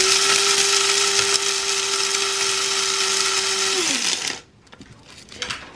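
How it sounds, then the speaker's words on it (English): Electric coffee grinder with a pop-on lid grinding coffee beans to a medium grind, a loud steady high-pitched whir held for about four seconds before winding down and stopping, followed by faint handling noise. "pop the lid on and just hold down. And obviously, the longer you hold, the finer the grind will be."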